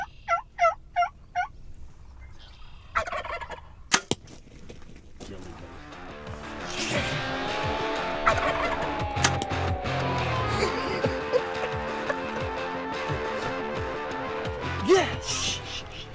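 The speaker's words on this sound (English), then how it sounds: "The other one's in there gobbling." Wild turkeys gobble outdoors during a bowhunt, with several rapid gobbles near the start and more calls through the rest, mixed with rustling movement and quiet talk nearby.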